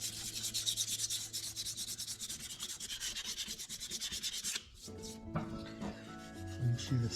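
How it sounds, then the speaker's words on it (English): Scuff pad sanding a brake caliper before painting, rapid rhythmic back-and-forth rubbing strokes close up for several seconds, then a pause and lighter handling noises with no talking. "get the scratches out and scuff it really good so the caliper paint will adhere to it"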